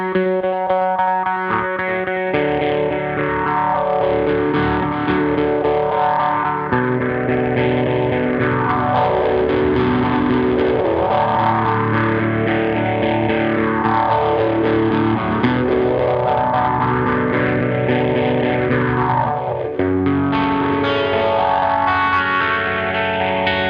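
Distorted electric guitar riff played through a Phase 90 phaser pedal, with a loud, sustained tone whose slow sweeping phaser swirl rises and falls repeatedly over about twenty seconds, with no talking.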